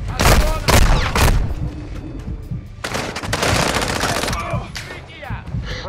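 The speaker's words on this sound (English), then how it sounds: "Our mortar strike is inbound." A mortar strike and gunfire in Call of Duty: Modern Warfare II, with heavy booming blasts and rapid bursts of shots, loud and dense, repeating in waves over about six seconds.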